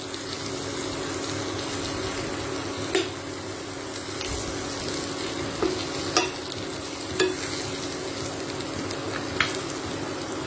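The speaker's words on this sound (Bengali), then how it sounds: "এবার এর মধ্যে অল্প খুব সামান্য দেব একটু হালকা করে জলের ছিটে" Aloo katli mixture frying in a pan hisses and sizzles steadily as a light sprinkle of water goes in, with a few sharp clinks of a spatula against the pan scattered throughout.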